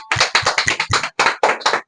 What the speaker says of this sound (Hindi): बहुत बढ़िया, ताली होनी चाहिए